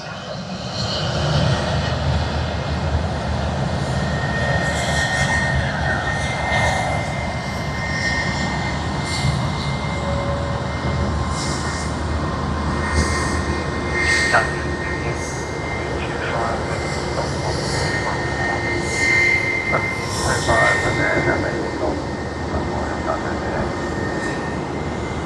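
An Emirates Boeing 777-300ER jet rolls down the runway at Sydney Airport, a steady loud engine roar that holds for the whole stretch, heard from a distance with faint talk beneath.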